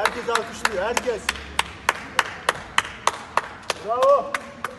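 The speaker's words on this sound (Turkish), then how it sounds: "Herkes alkışlıyor, herkes" Neighbours applaud health workers from their balconies during the coronavirus outbreak, with evenly spaced, crisp claps in a regular beat and occasional whistles or cheers rising over the rhythm.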